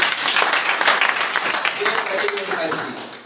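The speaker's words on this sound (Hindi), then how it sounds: "एक बार ताली बजाओ" Clapping from an audience at a business gathering fills the whole clip, a continuous dense patter of hands, with a voice speaking over it.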